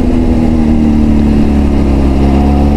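A 2005 Honda CBR600RR motorcycle engine idles low in the rev range, around 2000 RPM, giving a loud, close, steady low rumble with an even throb and no speech over it.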